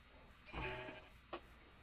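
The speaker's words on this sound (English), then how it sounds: "Can hear all kinds of sheep." Sheep bleat in the video game Minecraft, with one longer quiet bleat followed by a second short one, both faint and with no talk.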